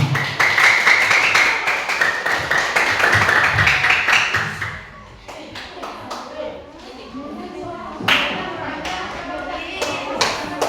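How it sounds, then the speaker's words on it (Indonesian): A seventh-grade classroom claps for presentation group 5, a steady patter of hands after a teacher speaks, fading into scattered taps, with children's voices murmuring. "tepuk tangan untuk kelompok 5"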